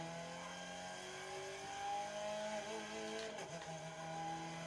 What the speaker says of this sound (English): Here it is from a standstill, running the engine.